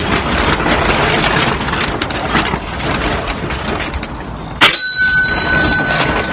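A projectile strikes a metal bell target with one sharp, loud clang that rings on with a sustained metallic tone, following several seconds of steady rushing background noise.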